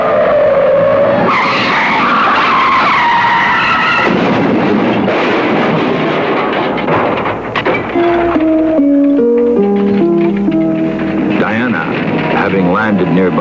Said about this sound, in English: a car on the nearby highway went out of control, veering away from an oncoming drunken driver